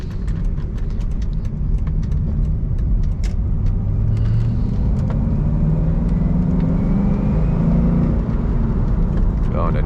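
A car drives and is downshifted through the gears, with a steady engine rumble inside the cabin. The engine pitch rises and falls as the gears change, and a voice is faintly heard.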